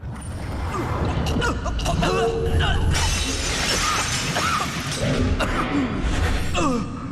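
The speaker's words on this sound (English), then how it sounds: "It sounded like breaking glass." Glass shatters in the video game Murdered: Soul Suspect, with repeated crashes and scattered tinkling fragments across the whole stretch, heard over a busy, rumbling game ambience.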